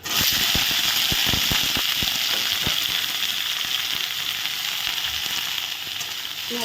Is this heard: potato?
yes